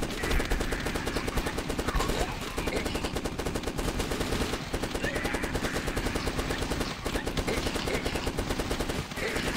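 Relentless rapid gunfire from the zombie shooter game The Last Stand, a dense continuous machine-gun rattle at constant loudness throughout, with brief dips.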